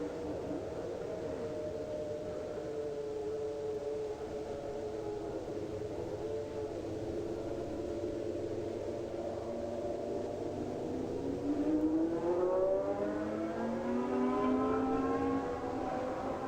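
A car engine revs through an Ignition GP demonstration run at a Michelin meet, a steady droning tone that climbs in pitch and grows louder toward the end as the car accelerates.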